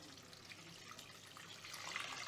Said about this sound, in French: Là, donc on rajoute de l'eau.